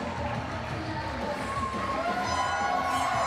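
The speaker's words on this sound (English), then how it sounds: "And the crowd roars with approval as another impressive showing for Madison Miles." A wrestling crowd at an East Coast Pro Wrestling show cheers and roars after a victory, a dense, steady wall of voices with shouts rising through it, loud and continuous throughout.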